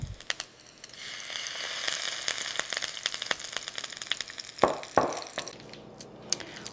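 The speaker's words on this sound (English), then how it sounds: "I always put it into a cold cast iron skillet first, and it really helps the fat render nicely." Bacon sizzling and crackling in a cast iron skillet, a steady hiss dotted with sharp pops and spits, close and fairly loud, with a couple of louder thuds of handling partway through.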